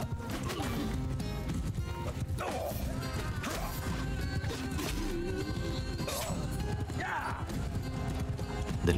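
Horse galloping in Mount & Blade II Bannerlord, Eagle Rising Roman mod: continuous rapid hoofbeats at moderate volume in a busy battle mix, with occasional clashes and a brief whinny.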